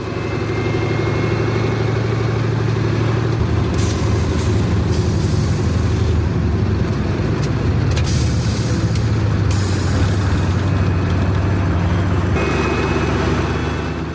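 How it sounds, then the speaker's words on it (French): Diesel engine of the X-2403 railcar, heard from inside the cab behind its soundproofing hood on the Col de Cabre line, giving a loud, steady drone that runs unbroken throughout with no talk. "Malgré le capot d'insonorisation, le moteur se fait bien entendre."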